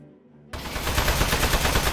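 Rapid gunfire from the video game Aperture Desk Job bursts in suddenly after a brief quiet moment, then keeps going as a loud, dense stream of shots.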